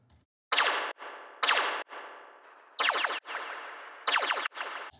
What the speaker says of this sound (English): we're gonna use the reverb, initiate this, and we need to find the spring algorithm